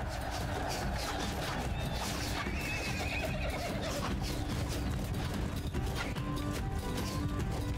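A horse in the Roman-era battle game Mount & Blade II Bannerlord whinnies loudly as it is killed, amid continuous battle din and hoofbeats.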